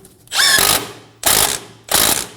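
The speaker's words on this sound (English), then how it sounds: "Using a 19mm socket, snug the nut down." A ratchet with a 19mm socket snugs down the outer tie rod nut on a 2008-2015 Scion xB, giving three loud, close bursts of rapid clicking separated by short pauses, with no talk.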